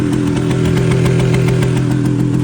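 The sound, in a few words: motorcycle engine running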